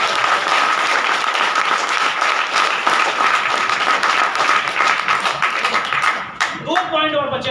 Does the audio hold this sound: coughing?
no